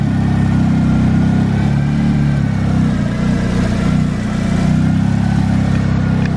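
A car engine idling steadily and loudly up close, a deep, even rumble with no revving, set up as a drift car at a drift event.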